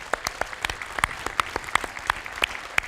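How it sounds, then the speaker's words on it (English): Sparse applause for dedicated broadcasting students at a Buffalo Broadcasters Hall of Fame ceremony, a handful of separate sharp claps ringing out in an uneven, scattered rhythm. "Let's give them a round of applause."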